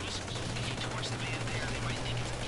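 Gunfire from a vehicle in a video game: a continuous, dense rattle of rapid automatic fire over a steady low engine drone, loud and unbroken throughout the short stretch.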